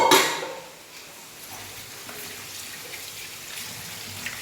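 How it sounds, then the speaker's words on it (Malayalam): A splash of water and a clink of a vessel, followed by quieter sloshing and faint handling sounds as cut tender jackfruit is rinsed. "നമുക്കിത് നന്നായിട്ട് കഴുകിയെടുക്കാം"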